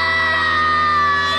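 A loud, drawn-out scream from the video game Choose Your Own Nightmare, one continuous high, strained cry holding steady for about a second and a half with no talk over it.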